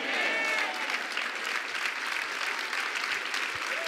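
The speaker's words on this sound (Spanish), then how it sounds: "Cuánto un aplauso fuerte" Steady applause from a church congregation during a sermon, dense and continuous clapping throughout, fairly loud with a few scattered whistles near the start.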